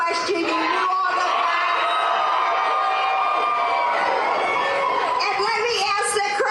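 A large crowd at a rally cheers and yells loudly and continuously, whoops and shouts overlapping in a dense roar that holds throughout.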